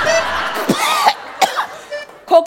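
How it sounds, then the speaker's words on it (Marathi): A few short coughs from an adult during a doctor's examination in a comedy sketch, separated by brief pauses and close to the mic, with a little voiced sound mixed in. "खोकल्याचा त्रास कधीपासून आहे"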